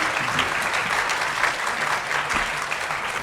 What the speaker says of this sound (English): Can we have a bit of a round of applause?